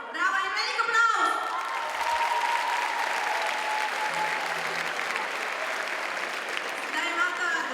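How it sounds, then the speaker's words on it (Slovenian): Audience applause at a charity concert, a dense steady clapping that fills the room for several seconds, with voices faintly audible over it. "Bravo in velik aplavz!"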